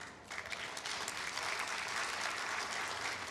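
Audience applause at a 2022 commencement ceremony, a dense, steady wash of many hands clapping that swells in the first half-second and then holds evenly, moderately loud and without speech.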